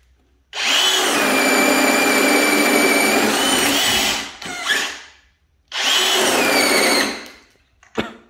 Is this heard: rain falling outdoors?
no